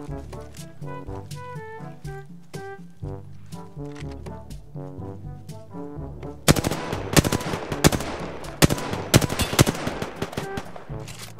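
Gunfire in the Apex Legends video game, rapid loud shots crackling over a musical backdrop and then growing denser and louder in the second half, close and punchy.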